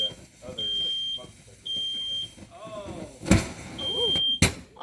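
Smoke detector alarm sounding repeated high-pitched beeping tones in a room, with people talking over it and sharp bangs and knocks in between.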